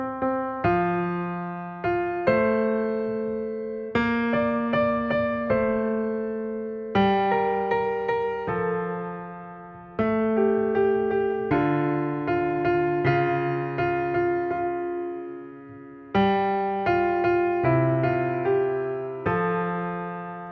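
A piano plays a simple melody in the right hand over steady low bass notes, each phrase struck clearly and left to decay.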